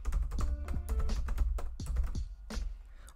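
Close, fast typing on a computer keyboard at a Linux terminal, irregular bursts of crisp key clicks with brief pauses, loud and alone.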